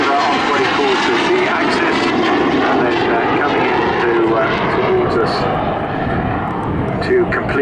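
A BAC Strikemaster jet flying aerobatics at the Southport Airshow, its engine whine sustained and fairly loud overhead with shifting pitch as it manoeuvres, while a commentator talks throughout.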